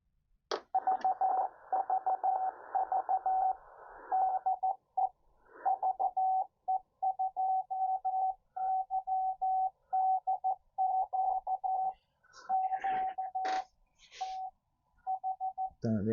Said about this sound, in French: là, j'écoute ma balise Morse